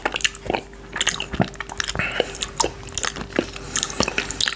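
Close, crisp ASMR chewing of coconut yogurt with shell coconut, with repeated wet bites and crunches coming in an uneven rhythm.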